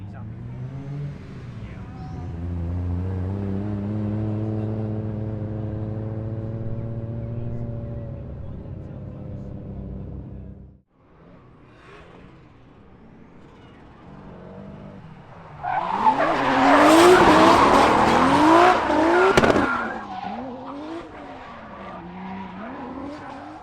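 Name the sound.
drift car engine revving and tires squealing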